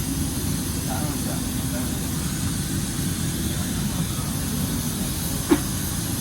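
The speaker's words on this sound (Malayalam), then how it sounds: "നമ്മൾ വിമാനത്തിൻ്റെ ഉള്ളിലേക്ക് പോയോണ്ടിരിക്കുകയാണ്" Inside an Air India aircraft cabin during boarding for a flight from Calicut to Sharjah, a steady broadband hiss and hum of cabin ventilation fills the space, with faint, indistinct murmurs and one brief click.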